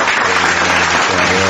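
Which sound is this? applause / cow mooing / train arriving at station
applause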